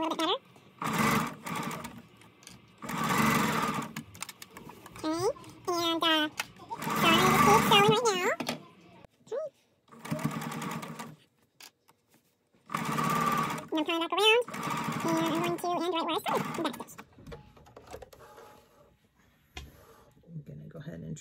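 A sewing machine stitches a lined drawstring bag in short intermittent bursts, its close mechanical whir alternating with pauses and interleaved with a voice and other talk.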